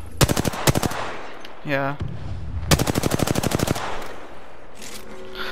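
Rapid automatic gunfire from the video game Apex Legends rattles in loud close bursts, a short volley, then a long sustained stream, with game voice lines and a brief spoken word in between.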